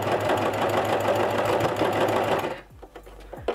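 A domestic sewing machine fitted with a transparent presser foot stitches fabric in a fast, steady mechanical whir that runs for over two seconds and then stops, leaving a quiet room with a few small clicks.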